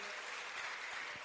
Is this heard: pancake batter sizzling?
no